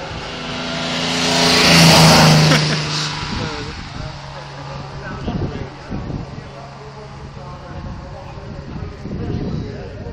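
A fast white car races up Kop Hill at the 2013 hillclimb event, its engine revving loudly as it sweeps past nearby, then fading into crowd chatter and wind noise with people talking.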